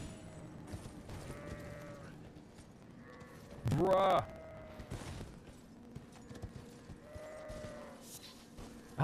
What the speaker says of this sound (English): There's nothing but sheep here.